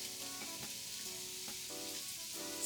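Steady sizzling of carrots, red peppers and cabbage frying in a pan, a continuous crackling hiss with faint clinks, heard alone at moderate volume.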